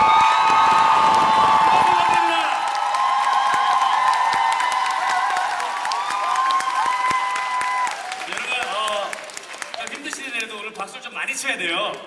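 Audience at a musical curtain call in Fame, sustained loud applause and cheering with screams that gradually thin out, followed by someone speaking over the crowd.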